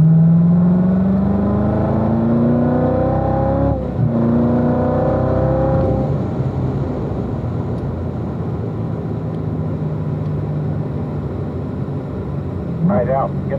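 A 2016 Corvette Z06 on the Spring Mountain race track, heard from inside, with its engine revving hard and the pitch climbing through the gears, a brief dip at a shift. Speech runs over the engine noise as it fades toward the end.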